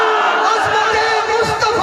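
Large rally crowd roaring a chant in unison, dense and loud throughout with overlapping voices rising and falling together.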